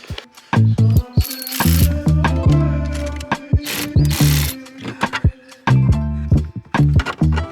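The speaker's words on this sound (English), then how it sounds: "I'm gonna go ahead and disconnect the battery" Hand tools work on a car battery during a steering wheel install: loud, close ratchet clicking in several bursts with short pauses, plus metallic clinks between them.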